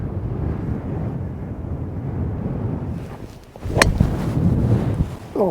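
Strong wind buffets a microphone on the Durness Golf Club course in the open, a loud continuous rumble that dips and surges, with a sharp whoosh partway through.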